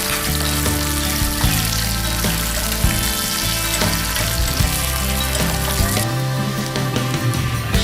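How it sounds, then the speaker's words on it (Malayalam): Cashews and raisins frying in ghee in a pan make a steady, loud, close sizzle that runs through the whole stretch, with small crackles and pops. No talking. "ഒരു പാത്രത്തിൽ എടുത്തു വെച്ചിരിക്കുന്ന നെയ്യ് ഒഴിക്കുക. അതിലേക്ക് കശുവണ്ടിയും കിസ്മിസും ചേർത്ത്"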